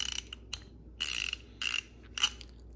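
DeWalt half-inch drive ratchet wrench from a 184-piece socket set clicking in four short bursts of quick pawl ticks, close and fairly quiet, with pauses between.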